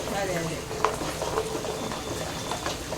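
Coconut and onion paste hitting a hot oiled pan for fish curry, giving a steady, close hiss and sizzle with small clicks and spatters.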